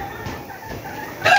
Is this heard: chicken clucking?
yes